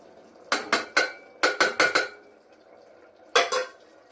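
A metal spoon scrapes and knocks against a pan while chilli, coriander, garam masala and turmeric powders are mixed into pulao, two quick bursts of sharp clatters separated by a short pause.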